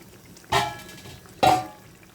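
Two distinct stirring strokes pass through a thick, simmering hilsa fish and cucumber curry with pumpkin seed paste, each a short, fairly loud wet scrape over a quiet bubbling background.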